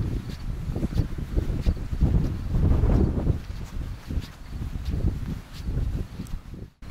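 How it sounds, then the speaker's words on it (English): Steady wind across open fields buffets the microphone with low rumbling gusts that rise and fall throughout, no voices. "It's so windy now."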